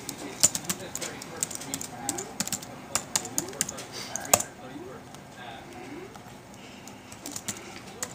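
Password being typed on a computer keyboard: a run of sharp, irregular key clicks at close range over quiet room noise, the taps thinning out after a few seconds.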